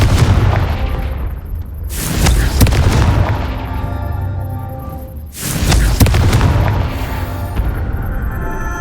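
Two heavy booming bursts of Confringo, the fire spell in Hogwarts Legacy, each explosion loud and close, rolling out before the next one lands.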